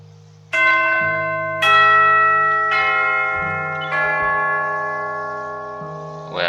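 A loud doorbell in the 7 Days To Die UBBI mod rings out as a series of resonant, bell-like chimes, each struck tone ringing and slowly decaying before the next, five strikes in succession with no talk.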